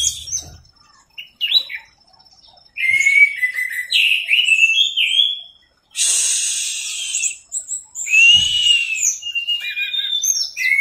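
An orange-headed thrush (anis merah) sings in the entranced teler style, close and loud, pouring out bright varied whistled phrases in bursts separated by short pauses, with no talking.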